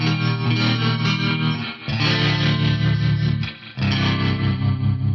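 Bass VI guitar soaked in spring reverb and tremolo, playing loud sustained chords in three swells with brief gaps, a shimmering pulsing twang alone with no talk.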